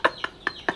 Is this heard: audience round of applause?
no